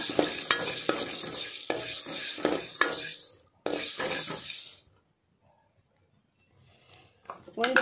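Spices roast and fry in a pan for a spicy Tulu post-pregnancy curry, sizzling with stirring scrapes and utensil clinks in two bursts separated by a brief pause, then a quiet stretch before more stirring.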